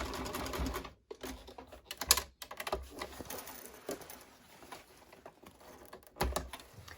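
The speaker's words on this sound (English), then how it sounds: "And now that I'm getting to the ends, I am going to backstitch." Sewing machine running a backstitch along the seam of a classic tote bag, a steady whirring stitch with short pauses and restarts as the direction changes, close and clear.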